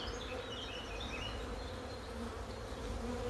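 Honeybees hum in an opened hive while it is split into a nuc, a continuous close, low drone of many workers and nurse bees with a few louder individual bees passing near, and no voices.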